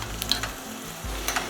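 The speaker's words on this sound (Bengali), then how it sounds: "একদম শেষে এইভাবে ঘিয়েতে ভাজা রসুন, আদা আর সাথে শুকনো লঙ্কা" Garlic, ginger and dried chili sizzling in hot ghee in a pan, a close crackling fry with brief stirring scrapes, short and fairly quiet.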